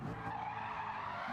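Tires skid under hard braking on a Chevrolet Corvette in the Gran Turismo 7 racing game at the Red Bull Ring, a steady continuous screech with a low engine hum beneath it, heard alone throughout.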